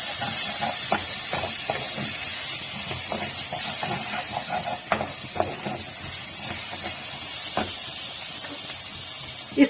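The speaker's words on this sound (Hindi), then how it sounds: "लहसुन अदरक की पेस्ट को इसमें डाल देंगे और थोड़ा सा इसके साथ इसको भूनेंगे" Garlic ginger paste frying with onions in a pan for achar gosht, a loud continuous hissing sizzle with steady scraping stirs, mostly alone with little talk.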